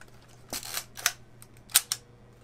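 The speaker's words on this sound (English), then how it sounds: "So we're gonna actually try the shutter speeds." A medium format portrait film camera fires its shutter at different speeds, giving several sharp mechanical clicks and short winding rasps spaced irregularly, crisp and close in a quiet room.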